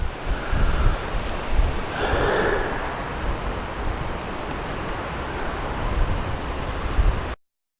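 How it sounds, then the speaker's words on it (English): Strong wind at Braemar Castle in Scotland buffets the microphone in a steady, roaring rush with gusty surges, loud and close throughout, no voices. "But as you say, very windy."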